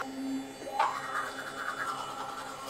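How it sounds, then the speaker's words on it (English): A green electric toothbrush buzzes against teeth, a steady close vibrating hum that shifts pitch as the brush head moves, scratchy and alone without talk. "This is my toothbrush, and it's green"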